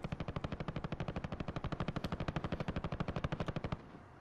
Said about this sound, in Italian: Uno sta sparando di là.